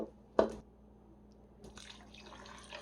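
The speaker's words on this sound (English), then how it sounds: "I use a slotted spoon. That way it does the draining for me." Cooked beef lifted on a slotted spoon for lasagna soup, giving one sharp wet splash followed by quiet dripping and trickling liquid, close and fairly soft.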